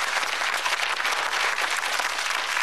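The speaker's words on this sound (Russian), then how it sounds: "Аплодисменты." A talk show studio audience claps in steady, dense applause that stays loud and even from start to finish, with no voices rising above it.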